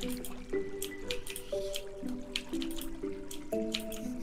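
Stardew Valley watering sounds as cacti are watered, dripping and splashing in a regular rhythm about twice a second, over repeating tonal notes.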